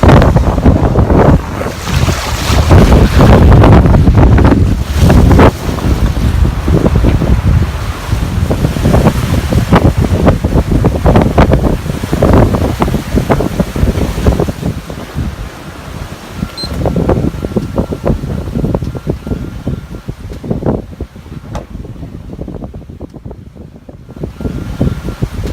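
Strong wind roars across the microphone while waves rush and slap against the hull of a sailboat running downwind at speed in the Aegean, loud and continuous throughout with no talking.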